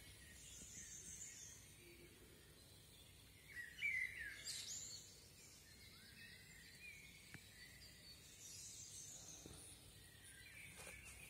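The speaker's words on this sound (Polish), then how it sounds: "Ptaszki już od pół godziny śpiewają." Faint birdsong drifts in from a distance at dawn, around 4 a.m. in late June, with scattered chirps and trills over a quiet background.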